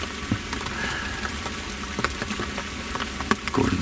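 Rain patters on the roof of a hunting box stand in the morning, a steady close hiss with scattered individual drops ticking sharply on the surface.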